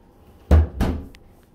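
A home fridge door swung open in a hotel suite: two quick, fairly loud thumps about a quarter second apart, followed by a faint click.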